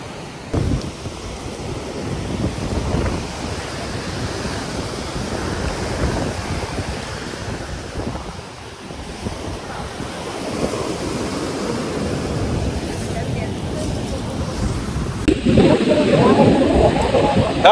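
Ocean surf rolls and breaks on a beach where people gather clams together. The roar is steady and broadband, swelling and fading, with voices talking nearby over it and a louder wash near the end.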